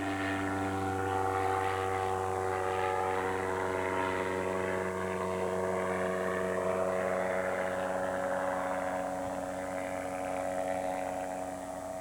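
A small propeller aircraft drones steadily overhead above Juína, Mato Grosso, its even engine hum holding a constant tone for the whole stretch, moderately loud with no pauses.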